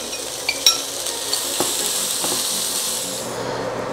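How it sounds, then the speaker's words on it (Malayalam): Onions frying in spice masala in a pan for Chettinad egg curry, a steady close sizzle with a few sharp clinks of a spoon early on, fading slightly toward the end. "ഈ മസാലക്കൂട്ട് നന്നായി മുരിഞ്ഞതിന് ശേഷം ഇതിലേക്ക് സവാള ചേർത്ത് കൊടുക്കാം"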